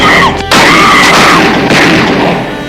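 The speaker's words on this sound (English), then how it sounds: "Gunshots, McCall, move it!" Gunshots ring out in a 1980s police TV drama scene: a sharp broadband crack near the start, then a loud, dense noisy scene with voices shouting over it.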